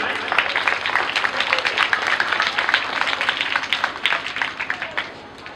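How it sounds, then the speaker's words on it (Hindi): An audience at a Hindi poetry gathering claps in honour of the poets, with distinct, fairly close individual claps forming a lively but thinning round that fades toward the end. "निश्चित रूप से एक बार इन कवियों के सम्मान में जोरदार तालियां बजाएं।"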